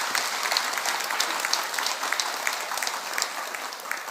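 Dense, steady applause from a large audience at a Korean Buddhist dharma assembly, thanking the choir, rolling on evenly for several seconds with no voices over it.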